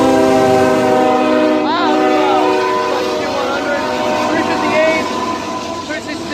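A K5HL train horn sounds from a passing train, its sustained multi-tone chord loud and steady for several seconds before easing off, with rumbling rail noise underneath and an excited voice calling out over it.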